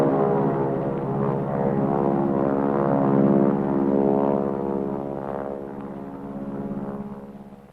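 A propeller spray plane flies a larviciding run. The engine drones loud and steady with a harmonic buzz that swells slightly mid-pass, then gradually eases off as the aircraft moves away, with no voices.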